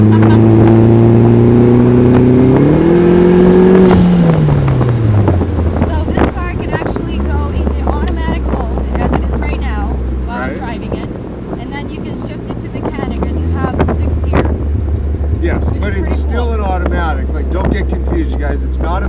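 A 2017 Vanderhall Venice three-wheeler revs up through a gear, then cruises with a steady engine drone under heavy wind buffeting, easing off and building again.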